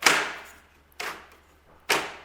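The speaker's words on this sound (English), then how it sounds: "Click" A plastic poultry transport crate door clicks shut, three sharp close snaps spaced about a second apart with nothing else around them.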